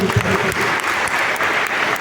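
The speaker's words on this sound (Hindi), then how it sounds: "इसके लिए उनका धन्यवाद है और ताली बजाओ उसके लिए" A crowd of party workers at a political address in South Delhi claps steadily and densely, a close, sustained round of applause with a brief voice near the start.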